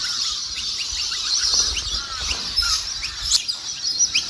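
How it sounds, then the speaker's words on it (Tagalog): Birds chirp and tweet outdoors at a campsite on a gloomy morning, a scatter of short, high calls from several directions over a soft background hush. "Yan yung mga ibon no."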